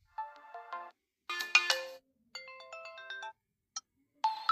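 An Android phone plays its SIM one ringtone, a bright electronic melody in short phrases separated by brief gaps, clear and alone with no talking.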